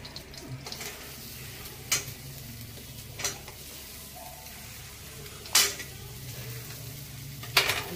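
Garlic sizzles in hot oil in a wok with black cumin seeds, a steady low frying hiss broken by a few sharp clinks of a utensil against the pan.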